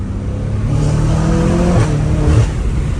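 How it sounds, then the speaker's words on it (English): BMW M5 Competition fitted with downpipes revving loudly through a gear shift, a steady close engine drone with a brief turbo spool hiss around the change, with no talking. "You can hear the turbos like spooling or something during the shift."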